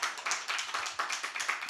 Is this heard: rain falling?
no